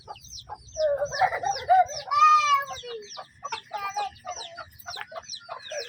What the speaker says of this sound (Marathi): हे आपल्या कोंबड्या